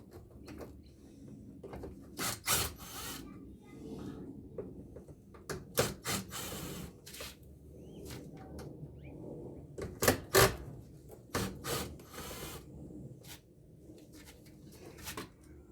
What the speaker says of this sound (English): Unscrew this first.